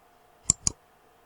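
Two crisp computer mouse clicks, close and clear, spaced about a fifth of a second apart in a quiet room with a faint steady hum, while using Google Maps on a PC or laptop.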